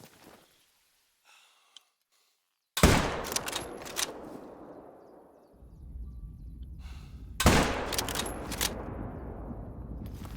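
Two loud 7mm rifle shots in the hunting game Call of the Wild, each a sharp crack followed by a long rolling echo that fades, with a few faint sounds between them.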